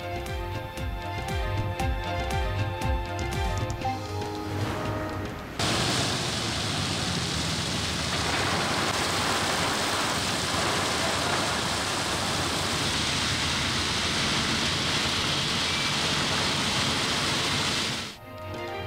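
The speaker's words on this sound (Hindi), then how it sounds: "कराची में सरमा की पहली बारिश, रात गए और सुबह सवेरे बादल बरसे" Steady, dense hiss of rain falling in Karachi during the first winter rain at night and early morning, loud and unbroken after a short musical lead-in.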